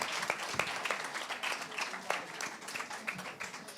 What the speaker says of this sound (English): why don't we just start with an applause for the people that came out tonight?